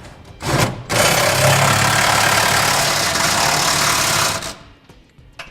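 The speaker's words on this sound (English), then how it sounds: "we're using a 15/16 inch socket to tighten up my" A powered 15/16 inch socket spins down 5/8 bolts while a B&W Companion fifth wheel hitch is installed on a 2015 Ram truck. A couple of short bursts lead into a loud, steady whir of about three and a half seconds, with no talking.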